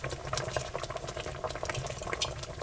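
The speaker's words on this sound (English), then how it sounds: "I'm going to turn this down to simmer." Pork chop broth simmers in a pot, a continuous dense bubbling and popping close by, steady throughout with no pauses.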